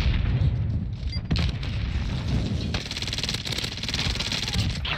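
An explosive charge detonates in a first-person shooter game, a deep boom followed by crackling gunfire-like bursts and rumbling debris, fairly quiet overall with continuous game noise.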